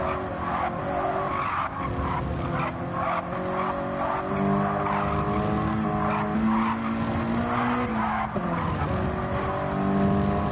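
Sim racing game cars with tires squealing and skidding over steady engine drone, a continuous loud wash of screeching rubber and motor noise that rises and falls across several cars, with no voices.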